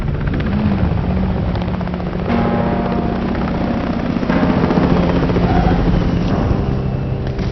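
Helicopter arriving in the Call of Duty Zombies video game, a loud, continuous rotor thrum and engine whine that stays close throughout, with no voices over it.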